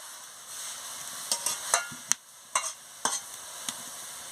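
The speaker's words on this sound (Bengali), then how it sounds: "দিয়ে ভালো করে একটু নাড়িয়ে নিচ্ছি।" Spatula scrapes and clicks against a pan while stirring cabbage fritter curry after salt is added, a soft sizzle underneath; about eight sharp strokes come irregularly, close and fairly quiet, with no talking.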